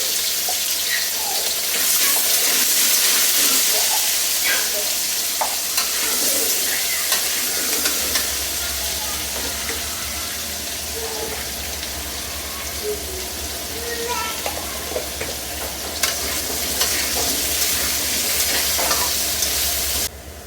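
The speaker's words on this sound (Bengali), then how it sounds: "হালকা নুন হলুদ দিয়ে আলু ভেজে নেব" Potatoes with salt and turmeric fry in oil in a pan, a steady loud sizzle with scraping stir strokes throughout, and a faint voice now and then beneath.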